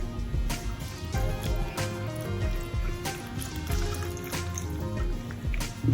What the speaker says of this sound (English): Here I have all my ingredients to blend. I'm just going to add a bit of water.